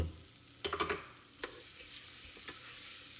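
Garlic and ginger hit hot oil for a tadka, giving a quick burst of crackling sizzle and a few stirring clinks, then a quieter continuous frying hiss; soft and fairly close.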